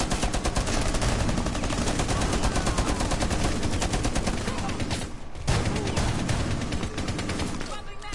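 Dense, continuous automatic gunfire from a video game firefight, heavy and rapid throughout with a short break midway, while voices talk underneath the shooting.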